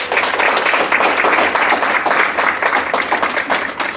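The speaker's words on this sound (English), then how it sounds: "Let's give her a round of applause." Loud, dense applause fills a room at a student leadership academy winter workshop as attendees clap for a speaker, a close, continuous patter of many hands holding steady for several seconds.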